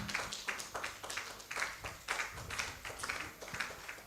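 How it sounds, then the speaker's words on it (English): A conference audience at a legal business event claps together in a regular, rhythmic beat that holds steady and fairly close, with no voices over it. "Thank you. Please keep on clapping"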